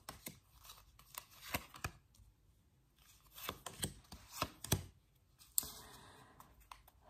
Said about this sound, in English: let's pull out some cards for air signs.